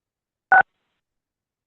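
A single short telephone keypad tone sounds once, brief and clear against silence, as someone dials star nine on a phone line into a commission meeting.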